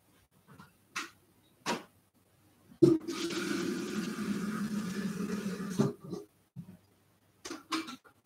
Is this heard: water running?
yes